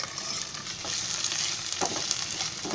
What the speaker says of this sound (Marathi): तसं जरा चांगला कांदा आहे ना भाजून घ्यायचा तेलामध्ये.